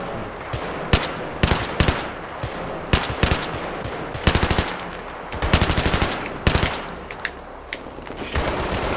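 Battlefield 3 gunfire in Operation Exodus gameplay: repeated bursts of machine-gun fire and single shots, loud and close, coming in irregular clusters over steady background noise.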